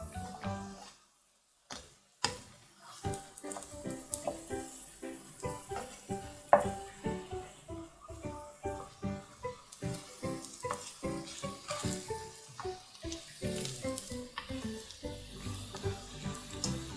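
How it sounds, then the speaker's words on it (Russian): Eggplant slices frying in a pan with oil, a continuous crackling sizzle punctuated by sharp spattering pops and occasional utensil clicks, close and steady, with a brief quiet gap near the start. "И обжариваем до готовности."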